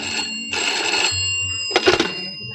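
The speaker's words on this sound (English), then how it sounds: "answer the phone, will you please?" An old-style telephone bell ringing in a radio comedy, two long trilling rings with a pause between, loud and near, followed by a brief clatter as the receiver is lifted.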